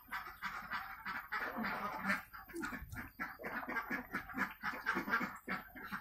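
Many ducks quacking busily together inside a well-ventilated duck coop on an egg-laying farm, a dense, continuous chorus of overlapping calls close by, with no talking.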